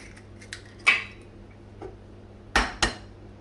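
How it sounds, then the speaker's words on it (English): Two eggs are cracked against the rim of a bowl in a home kitchen while making chicken Kiev, several close, sharp shell taps and clicks with quiet pauses between them, no talking. "Then what you want to do is you get 2 eggs and just crack them"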